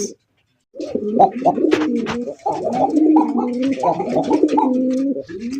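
Male Golla pigeons coo steadily and close by in a farm loft, the low rolling calls repeating almost continuously after a brief silence at the start.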